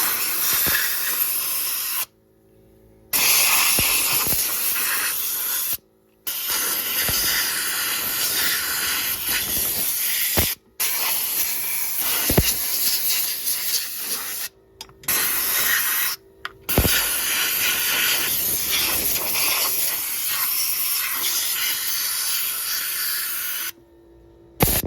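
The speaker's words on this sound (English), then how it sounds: "I'm going to get compressed air and I'm going to blow any dust out of there before I take those spark plugs out." Compressed air blasts dust off the engine of a 1994 Honda GL1500 Goldwing, loud close hissing bursts of varying length separated by short silences.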